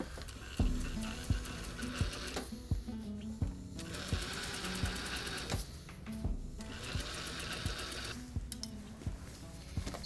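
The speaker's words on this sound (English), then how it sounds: "I'm just going to sew down these seams, and then I'm going to sew along this seam." Steady whir and rhythmic needle clatter from a sewing machine stitching the seams of a down jacket during a repair, running continuously with small pitch shifts as the speed changes.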